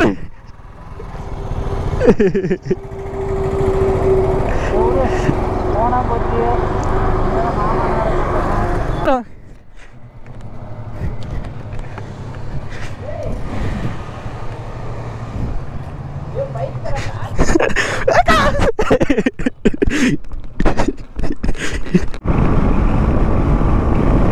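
A KTM Duke motorcycle engine drones steadily while riding in a group, rising and falling with wind rush, and a sharp cut midway. People talk over it at times.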